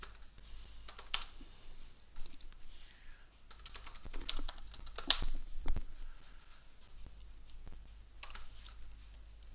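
Typing on a computer keyboard, rapid irregular key clicks in short bursts with brief pauses, close and fairly quiet over a low steady hum, with no talking.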